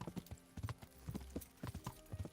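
A horse's hooves clip-clop in a steady brisk rhythm on a medieval road in Kingdom Come: Deliverance, close and clear, with no voices over them.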